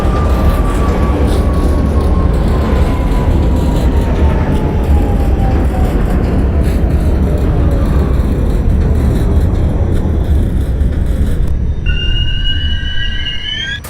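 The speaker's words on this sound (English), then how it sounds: "Train leaving Liberty Street." A simulated NYC Subway R68 train on the D line pulls out of a station in the OpenBVE simulator, with heavy rumbling wheels and a motor whine gliding steadily downward; at the end, bright electronic tones sound over the rolling noise.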